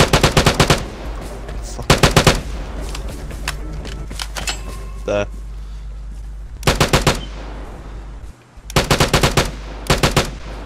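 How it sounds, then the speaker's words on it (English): Automatic gunfire in the online shooter Vigor comes in loud, rapid bursts of several shots each, repeated with short gaps, while a player's voice briefly swears in between. "Oh, getting shot from behind."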